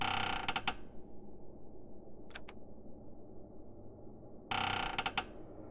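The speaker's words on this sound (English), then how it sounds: "Sandman and his immersive door locking." Mechanical door-locking clicks and creaks from the video game The Sandman: a rattling burst of ratchet-like clicks, a brief pair of clicks midway, then another clattering burst, over a low murmuring background.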